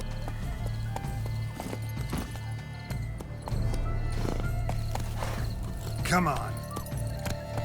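A horse trots and gallops through vast gardens in The Witcher 3: Wild Hunt, steady clip-clop hoofbeats with a whinny near the end, under game music and a brief spoken line.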